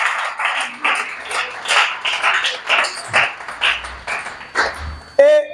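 A church congregation praises the Lord with rhythmic, evenly spaced bursts of clapping mixed with voices. A brief ringing tone sounds at the very end.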